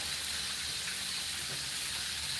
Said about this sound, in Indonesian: Itu goreng ikan lele